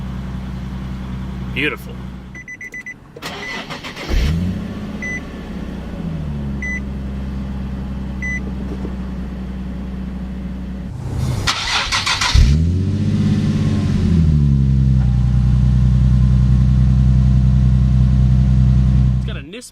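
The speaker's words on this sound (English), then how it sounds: "Just put your foot on the brake and the clutch, hit the button to start." A 2009 Nissan 370Z NISMO engine cranking and catching with a loud rev, settling into a steady deep idle, then starting and revving again before idling on, close up, with a brief spoken word.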